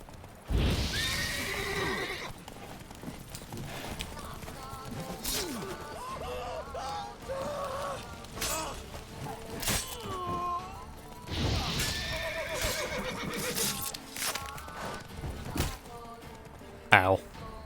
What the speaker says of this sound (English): Alright, let me just get off the horse.